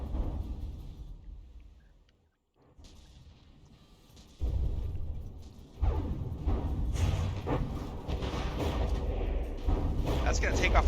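Naval combat in the game From The Depths, with torpedoes striking a frigate: a series of loud, rumbling booms and blasts that build from a quiet start into sustained heavy impacts. A voice talks over the action.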